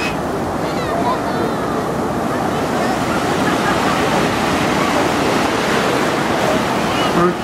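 Ocean surf rolls and breaks continuously on a beach during a surf dog competition, a loud, broad wash of crashing water mixed with wind buffeting the microphone, with no clear gaps between waves.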